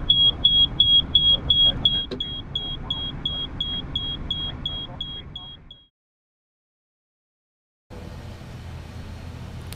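ATR aircraft cockpit test buzzer, a rapid train of about fifteen high electronic beeps over engine hum, then abrupt silence, followed by a return of steady cockpit noise.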